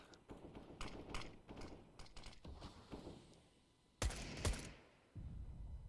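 Pistol fire during a Counter-Strike round: a rapid series of sharp shots, then two louder, isolated cracks and a mechanical clatter, all at game volume with no talk.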